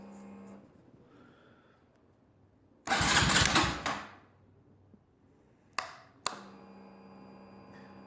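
A Honda Grom motorcycle, running dangerously lean, cranks over with a loud one-second burst, then two short sharp bursts follow as it tries to catch, with quiet gaps between attempts.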